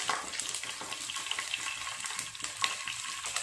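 Chillies with chana dal and urad dal sizzle and crackle steadily in hot oil in a pan while being stirred, a continuous close frying hiss with small pops throughout, tempering for Karnataka-style bansi rava upma.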